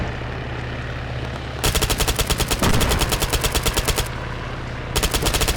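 Rapid full-auto bursts from an HK MP7 personal defense weapon in the Arma 3 military shooter, three sustained strings of close, loud shots separated by short pauses over a steady low hum.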